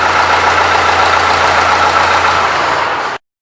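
A YTO 80 hp tractor engine idles close by with a steady, even rumble, then cuts off abruptly near the end.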